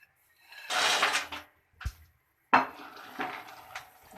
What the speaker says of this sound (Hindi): अभी मैं इसमें ये मूंगफली डाल दूँगी।